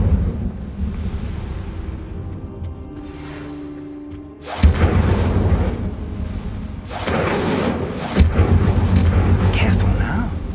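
A fire spell cast in Hogwarts Legacy erupts with a sudden loud whoosh and boom, a sustained roaring burst followed by a second surge, over a low rumbling game background with a voice speaking just before.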